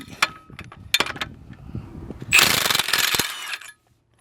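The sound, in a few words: impact wrench on lug nuts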